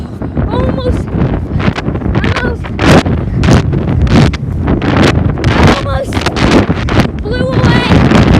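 Strong wind in Maryland buffets the microphone with loud, roaring gusts that never let up. A person cries out and talks through it.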